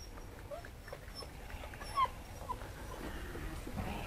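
Two-month-old Malinois puppies whimpering faintly during basic training, with soft high whines and yips scattered over a low background hum, plus one brief sharper cry.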